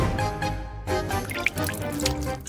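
A little water is poured into a cooking pot during a kitchen cooking challenge, with a continuous splashing pour and a few drips, close and fairly loud.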